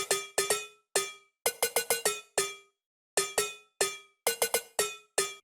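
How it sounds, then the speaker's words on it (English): A bright metallic synth pluck from a bass house sample pack plays in quick rhythmic bursts of short ringing notes, clean and close, with gaps between phrases and no other sound. "Plug Bra sounds really metallic and it goes like this."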